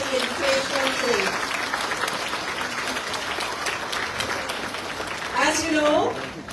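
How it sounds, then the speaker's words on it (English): A crowd at a presidential Christmas event for children with disabilities breaks into steady applause that carries through the whole stretch, swelling again near the end, with voices mixed into the clapping. "let's give His Excellency a huge round of applause for the invitation today"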